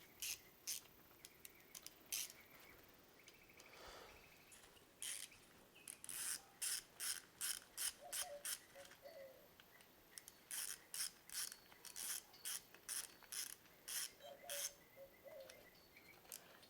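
Ratchet clicking in quick, rhythmic bursts while snugging camshaft plate bolts on an engine block, close and crisp with short pauses between strokes and no talking.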